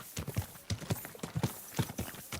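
Horse hooves clip-clop in an uneven trotting rhythm in the medieval video game Kingdom Come: Deliverance II, close and clear with no talk over them.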